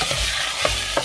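Chicken pieces frying in hot oil with garlic give a steady close sizzle, with a couple of brief stirring scrapes.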